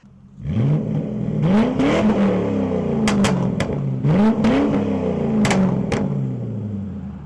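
Stock Ford powertrain with the rear muffler cut off and replaced by a pipe section, revving repeatedly in rising sweeps with sharp exhaust pops between pulls, close and loud.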